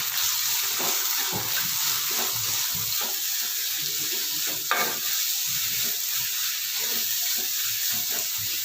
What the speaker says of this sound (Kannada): ಈಗ ಮಸಾಲೆನ ಚೆನ್ನಾಗಿ ಮಿಕ್ಸ್ ಮಾಡ್ಕೊಳ್ಳೋಣ